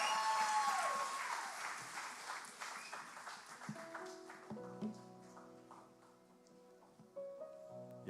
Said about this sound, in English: let's give a clap offering